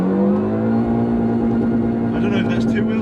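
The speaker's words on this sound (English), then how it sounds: "we've got to do a bit of an aggressive launch as well" A Mini engine revs hard and holds a high, steady drone during an aggressive launch, heard from inside the car. The pitch climbs slightly and a voice speaks over it.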